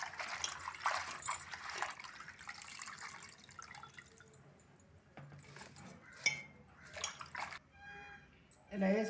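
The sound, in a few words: washing sorrel leaves in water in a bowl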